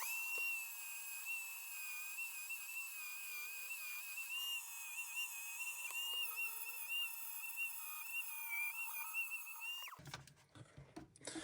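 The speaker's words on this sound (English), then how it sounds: "I want to see how well it cleans up this lag bolt" A Katerk rotary flex shaft tool spins at high speed against a rusty lag bolt, a loud steady whine with slight pitch wobble running for about ten seconds before cutting off abruptly.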